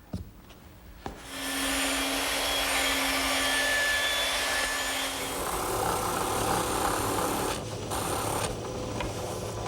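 A drum sander whirs to life with a sharp start and then runs in a steady loud drone while it smooths the sawn edges of wooden shelf pieces for a hanging corner cupboard, with brief changes in the tone near the end.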